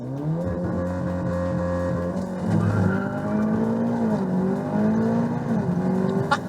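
An Audi S3 accelerates hard through a 0-100 run, its engine note climbing loud and close through several shifts, with brief dips between gears and a steady roar.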